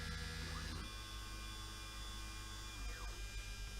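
A CNC machine spindle on a kit-built CNC hums and whines faintly and steadily, with a brief sweep in pitch near the start and another near the end.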